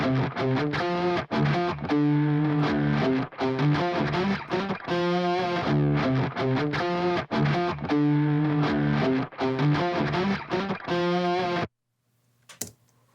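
The main rhythm guitar part from the verses of a song plays alone, a loud distorted part with chugging, evenly pulsed chords. It stops abruptly near the end, leaving a faint brief tick.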